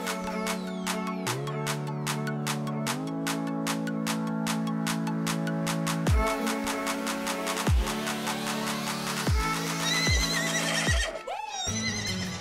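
A North Swedish cold-blood horse in the video game Star Stable gives several loud neighs and whinnies, each ringing with clear harmonic tones, over a steady background of game music and hoof clip-clops.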